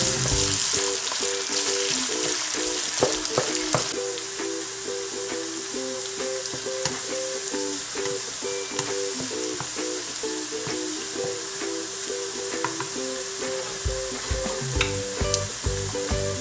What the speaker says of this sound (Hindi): अब इस प्याज को हमने 5-7 मिनट लाइट गोल्डन करना है।